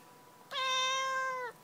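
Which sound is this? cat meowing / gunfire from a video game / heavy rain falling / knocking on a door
cat meowing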